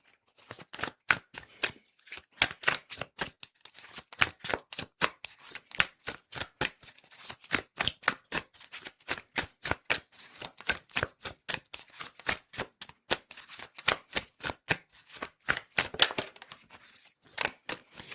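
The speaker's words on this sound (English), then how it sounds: "Have you ever seen them shuffle cards like that and then one jumps out?" Oracle cards are shuffled over and over in quick, crisp riffles, a steady rhythmic flapping and snapping heard close up with no one speaking.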